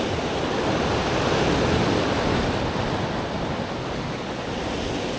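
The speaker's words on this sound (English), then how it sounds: "Big wave just came in." Sea waves surge and break on the rocky Costa Brava shore, a loud, steady roar of surf and churning water filling the whole stretch without pause, with a big wave rolling in close by.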